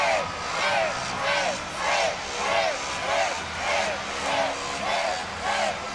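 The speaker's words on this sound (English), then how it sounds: "They're clapping along." Gymnastics arena crowd at a college meet clapping along in a steady rhythm to a floor exercise routine, the beats regular and sustained beneath a broadcast commentator's voice.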